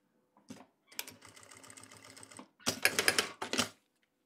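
Sewing machine stitching along the edge of a transparent waterproof organizer bag: a short burst, then a steady run of fast needle chatter, followed by louder, harsher bursts near the end.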